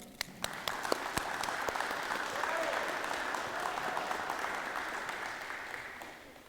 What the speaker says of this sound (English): give a big round of applause to Mr. and Mrs. Soto